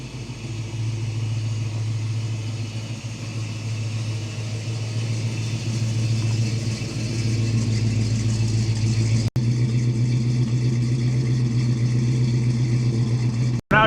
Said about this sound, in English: we're gonna go take it for a little drive.